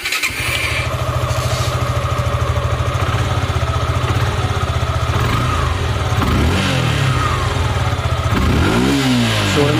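A Suzuki Gixxer SF BS6 motorcycle starts up after a wiring repair and settles into a loud, steady, close idle, then revs up near the end.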